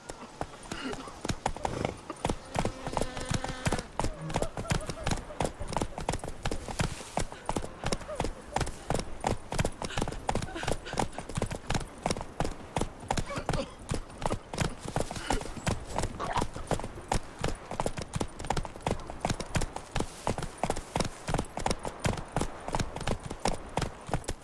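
Roach, a horse in The Witcher 3, gallops in a fast, steady clip-clop rhythm of hooves that runs the whole time, with a short whinny near the start and a voice urging the horse on.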